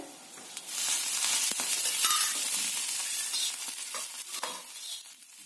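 Green chillies roast in a spoonful of oil in a pan, giving a bright, continuous close crackle and sizzle that swells after the first second and stays steady, with faint stirring ticks and no voices.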